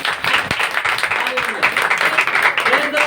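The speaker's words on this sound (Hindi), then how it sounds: "इसी बात के लिए ताली बजानी चाहिए" A congregation claps at a church prayer meeting, a dense burst of applause that runs on steadily with voices talking over it.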